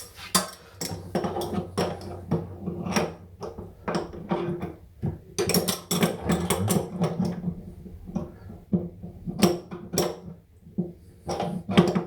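A bidet hose connector is fitted and tightened onto an existing tap during a Xiaomi Mijia SmartMi bidet install. Close, irregular plastic and metal clicks, knocks and scraping come in short bursts without talk.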